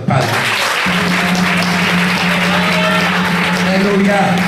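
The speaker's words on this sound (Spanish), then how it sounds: "se dé un aplauso al Padre" A church congregation breaks into loud, sustained applause that fills the room, with dense clapping continuing steadily throughout and a low hum underneath.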